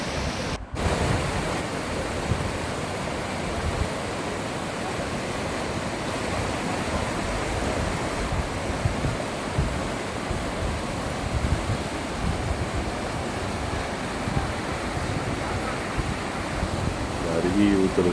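Sinnakallar waterfall in Valparai pours steadily under a light drizzle, a constant full-band rushing roar that stays loud and even from start to finish, with no break in the flow.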